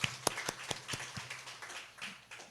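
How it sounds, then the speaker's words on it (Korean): A church congregation claps in thanks, a scattered, fairly faint round of distinct hand claps rather than full applause. "하나님 앞에 감사의 박수를 한번 돌릴까요?"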